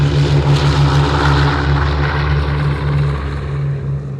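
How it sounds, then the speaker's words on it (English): A Convair B-36 Peacemaker, with six piston propeller engines and four jet engines, drones in a loud, steady roar with a strong low throbbing hum that fades slightly toward the end. "That airplane is the Convair B-36 Peacemaker."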